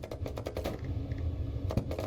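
Quick mechanical clicking and clattering of a Leopard A1A2 tank gun reloading in the game GHPC, a rapid run of clicks, a pause, then more.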